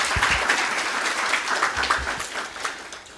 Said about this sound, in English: A round of applause for our participants,